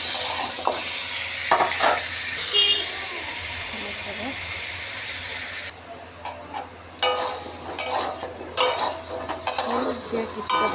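Potatoes frying in a pan for an aloo curry, close sizzling broken by clattering, scraping stirs of a spatula against the metal, with rhythmic bursts of scraping toward the end.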